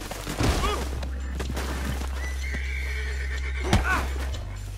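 A horse whinnies sharply near the start and again later in Red Dead Redemption 2, over a steady low rumble, with a thump in between.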